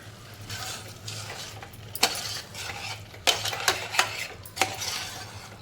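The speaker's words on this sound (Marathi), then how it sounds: "तर आता मोठ्या गॅसवरती एकदा परतवून घ्यायची व्यवस्थित" Moth bean sprouts sautéed in a pan over a high flame, with a spoon scraping and stirring in irregular clatters over a steady low burner hum.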